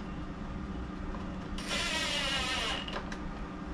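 Screws are driven into the plastic body of a John Deere S120 riding mower: a short buzzing, ratcheting burst of a driver mid-clip, with a couple of faint clicks after and a low steady background hum.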